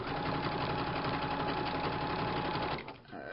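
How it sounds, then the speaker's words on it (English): Sewing machine stitching through paper book pages runs at a steady fast rhythmic whir, close and continuous, then slows and falters near the end. "I'm going to start sewing there."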